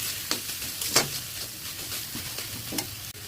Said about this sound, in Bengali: হলুদের গুঁড়া, জিরের গুঁড়া, লবণ ও ধনে পাতা কুচি দিয়ে কিছুক্ষণ নেড়েচেড়ে নেব।